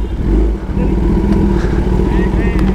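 Kawasaki ZX10R motorcycle with a loud exhaust rumbles close by on a college campus, a rough, throbbing idle and rev running throughout, with a voice heard faintly alongside.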